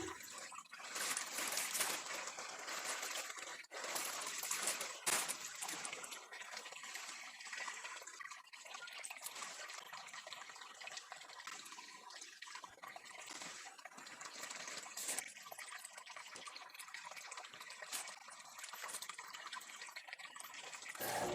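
River water flowing while laundry is washed in a river in Marinduque: a steady, dense rushing and splashing that runs without pause, with no talking.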